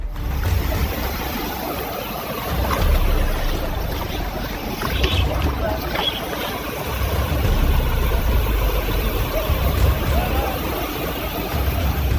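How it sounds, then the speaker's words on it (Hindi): A boat moving across a flooded road in Bihar produces a steady low engine drone with water churning beneath it, continuous and fairly loud, while a voice talks over it. "प्रधानमंत्री सड़क योजना पर चल रही है नाव।"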